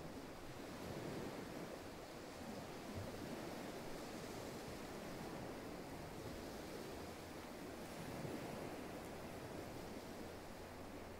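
Sea waves wash steadily onto a beach at sunset, a continuous broad roar of surf with gentle swells, close and fairly loud, mixed with some wind and no voices.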